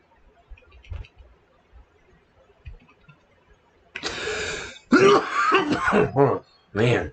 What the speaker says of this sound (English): That's a good cough.